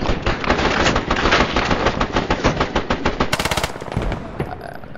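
Rapid automatic weapon fire from a close-quarters gun in the military shooter game Squad, loud continuous bursts of fast cracking shots that grow sharper and more clipped near the end.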